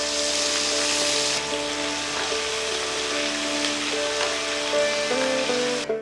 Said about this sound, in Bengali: যতক্ষণ পেঁয়াজ ভাজা হচ্ছে